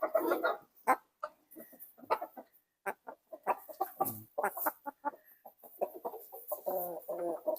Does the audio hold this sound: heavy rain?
no